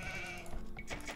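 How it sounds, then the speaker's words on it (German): Sheep bleating in the strategy video game Age of Empires 2, a single short bleat heard alone at low volume. "Hier haben wir noch das Schaf"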